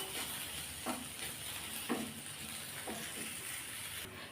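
Okra poriyal with masala sautéing in a pan: a steady close sizzle runs throughout, broken by a few soft stirring scrapes about once a second.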